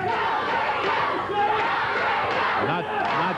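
A wrestling studio crowd cheers and shouts loudly and continuously at a Championship Wrestling match, the massed voices rising in rowdy bursts that fill the whole stretch.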